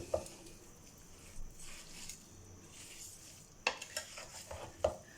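A spoon stirs carrot halwa made with milk in a pot. Soft scraping and swishing continue throughout, with a few sharp clinks of the spoon against the metal, all fairly quiet and close.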